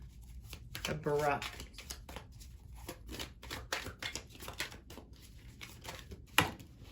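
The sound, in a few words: tarot cards being shuffled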